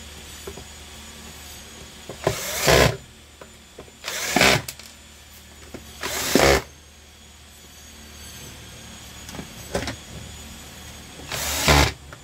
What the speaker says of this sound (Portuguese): Agora vamos colocar de volta os quatro parafusos.